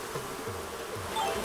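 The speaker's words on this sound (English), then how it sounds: "Catch these wasps real fast." Wasps buzzing in the video game Animal Crossing: New Horizons, a steady wavering insect drone that swells slightly toward the end, heard alone without talk.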